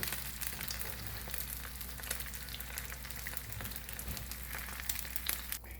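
Bacon and egg fry in a pan with a steady, soft crackling sizzle that runs continuously without pause, heard up close and fairly quiet, with no talking.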